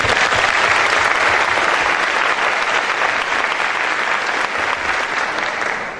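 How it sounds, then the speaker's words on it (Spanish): Sustained, even applause from a conference audience on a trade agreement panel, a steady wash of many hands clapping that holds for several seconds and eases slightly toward the end. "Un aplauso."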